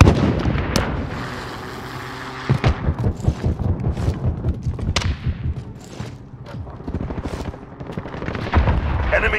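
Heavy gunfire in Call of Duty: Modern Warfare crackles in bursts of rapid automatic shots and sharper single reports, loud and close, under occasional game radio voice lines.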